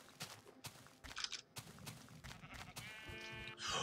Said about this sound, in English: Oh, another pink sheep.